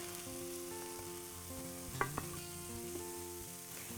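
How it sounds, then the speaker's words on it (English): Garlic sizzles steadily in a hot pan, broken by a brief clatter of a utensil midway, with a constant frying hiss throughout. "The garlic goes in next."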